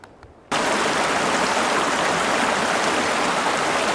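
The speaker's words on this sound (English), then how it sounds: "One of the many little streams you cross here in Evolution Valley." A small mountain stream in Evolution Valley rushes steadily, a loud, continuous broadband wash of flowing water that starts abruptly after a brief quiet moment and holds unbroken to the end.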